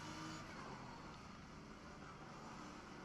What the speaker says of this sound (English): the Mustang sounds so mean